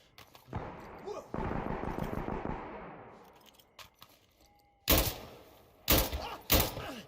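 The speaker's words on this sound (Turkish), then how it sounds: "nişan almadan sıktığımızda böyle gördüğünüz üzere" Rifle fire in the first-person shooter Insurgency Sandstorm, with a long rapid burst of automatic shots followed by a few separate sharp reports after a lull, loud and close.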